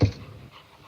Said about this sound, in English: my dog's over here breathing heavily and stuff